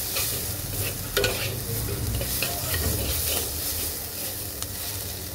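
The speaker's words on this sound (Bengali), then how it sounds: "2-1 মিনিট একটু ভেজে নেই।" Spices for fish dopiaza fry with a steady close sizzle while a spoon stirs them in a pan, the scrape and hiss continuing with no voices.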